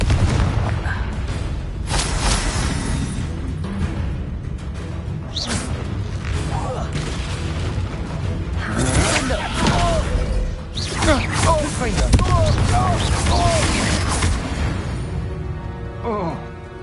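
Confringo blasting spells go off in a Harry Potter video game, several bursting booms and crackles among game effects, with a voice casting the spells.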